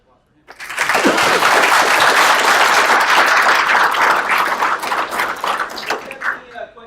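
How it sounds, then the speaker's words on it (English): An audience at a sheriff's breakfast event bursts into applause, a loud, dense round of clapping that starts abruptly, holds steady, then thins into scattered claps with a few voices mixed in. "So, round of applause for him."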